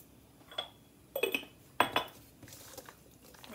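A spoon stirs tuna pasta salad in a bowl, giving a few scattered, fairly soft clinks and scrapes against the dish, with quiet gaps between them.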